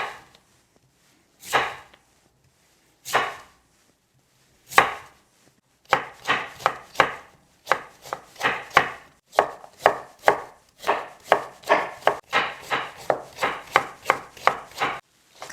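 Knife chopping mustard greens (gat) for kimchi: a few separate chops, then a steady run of quick, crisp cuts against a board, close and alone.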